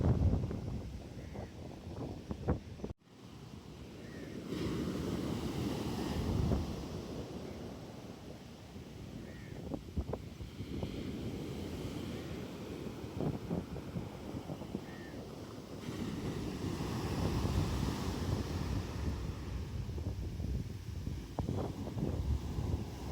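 Wind and ocean surf at Wennappuwa Beach in Sri Lanka, with gusty wind buffeting the microphone and waves rolling in and washing up in slow surges, after a brief dropout near the start.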